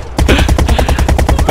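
A loud, steady rapid-fire machine gun in Brick Rigs, evenly spaced punchy rounds hammering close for over a second without pause.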